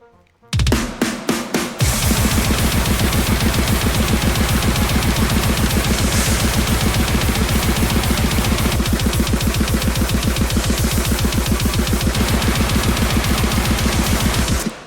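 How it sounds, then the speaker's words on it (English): Loud, heavily processed metal drumming with rapid double-kick bursts and dense cymbals, driving continuously after a brief opening hit. "this is a drum cover, it should sound like this"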